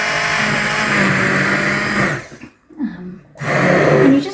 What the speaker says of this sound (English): stick blender in the fluid so it doesn't splash